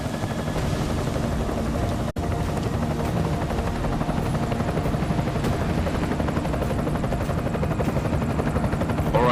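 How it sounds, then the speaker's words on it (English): Enemy helicopter in the game Deus Ex: Mankind Divided, a loud, steady rotor chop and engine roar throughout, with one brief dropout near the start. "Enemy helo sighted."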